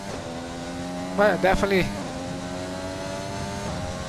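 An F1 car engine in F1 2020 holds a steady high-pitched whine with a brief rising and falling burst of revs partway through, while a person speaks over it.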